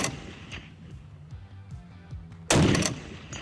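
A single .50 caliber gun fires one loud, sharp blast that trails into a short rumbling decay, standing out clearly after a stretch of quieter background noise.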